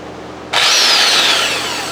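A vintage belt sander rescued from the trash switches on abruptly and runs with a loud, steady whirring hiss, its pitch sliding slightly downward as it settles, close and without any voices.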